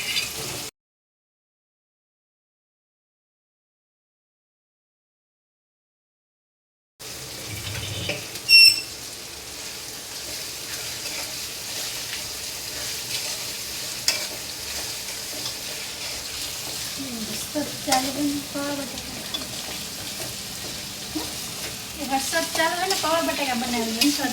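Poha batata, flattened rice with potatoes, sizzles and is stirred in a pan at home on a rainy day; after a silent gap, a steady frying hiss carries on with occasional scrapes and clinks, close and moderately loud.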